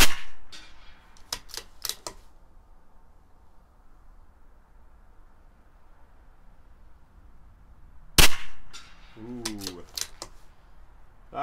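A CZ 457 rimfire rifle firing CCI Pistol Match ammunition at 100 yards gives sharp, dry cracks, several in quick succession early, then a pause before a louder report and a few more closely spaced shots.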